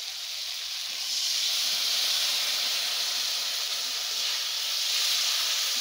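Steady loud hiss of a cumin and chilli spice paste sizzling in hot fried onions in a pan, a continuous frying sizzle that swells slightly after the first second and holds with no talk.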